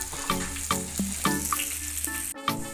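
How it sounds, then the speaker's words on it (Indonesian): Onion, garlic, ginger and scallions sizzle steadily in hot oil, with occasional clinks and stirring knocks of a utensil against the pan. "Kita lanjut menggoreng bawang merah, bawang putih, jahe, dan daun bawang"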